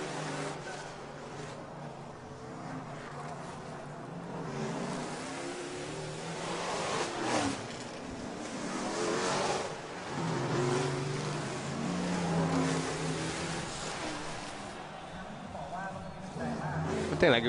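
V8 race cars with 5.7-litre, 450-horsepower engines at the Race of Champions Nations Cup 2012, engines roaring and revving steadily throughout, with a voice talking over the noise.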